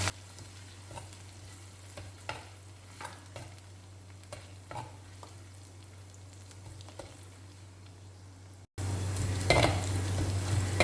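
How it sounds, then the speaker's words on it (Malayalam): Garlic and ginger frying in hot oil for a squid dish, a steady low sizzle with scattered soft stirring clicks, then a sudden louder, brighter crackle near the end as the pan heats up or more goes in; no talking. "ഇനി ഈ എണ്ണയിലേക്ക് വെളുത്തുള്ളി ഇഞ്ചി ഇട്ട് കൊടുക്കാം"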